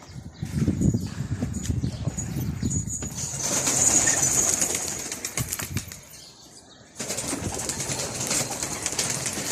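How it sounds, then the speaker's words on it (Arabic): Pigeons clatter their wings in several close bursts of flapping, with occasional soft cooing and a brief quieter pause midway. "هاي الحمام يا اخوان بالصلاة على النبي"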